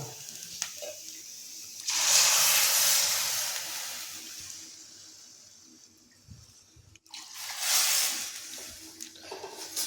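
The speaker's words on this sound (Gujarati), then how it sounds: "તમે જોઈ શકો છો કે આપણું દૂધ ઉકળવા લાગ્યું છે।" Milk coming to a boil in a pan for jaggery carrot halwa, a broad bubbling hiss that swells loud for several seconds, eases off, then surges again near the end, with no talking.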